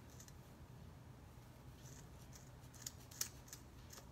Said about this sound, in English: I'm gonna snip